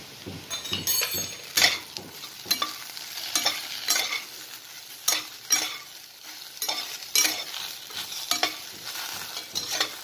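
Vegetables fry with turmeric in a pan, a soft sizzle running under repeated spoon scrapes and light clinks against the metal, close and fairly quiet with an uneven stirring rhythm.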